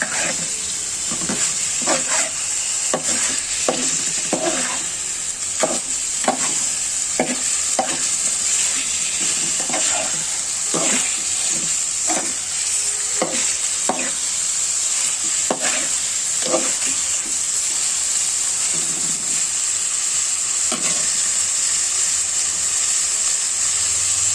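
Pieces of rohu fish fry in hot oil in a pan, with a steady sizzle throughout and a run of repeated scraping, clattering stirs, the stirring thinning out toward the end.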